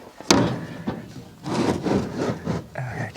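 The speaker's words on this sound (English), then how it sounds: "So let's put the pallet in." Wooden painting palette sliding and knocking into a plein air easel outdoors, with a sharp wooden clack, then rubbing, scraping and shuffling handling noises, fairly close.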